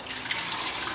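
Homemade almond milk poured in a kitchen, a brief hissing, splashing stream lasting about a second, fairly close and with no talking.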